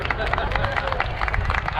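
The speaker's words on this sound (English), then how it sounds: "a round of applause for that inspirational speech" An audience claps after a speech at an Eid al-Adha festival, a dense steady patter of many hands lasting a couple of seconds with crowd murmur mixed in.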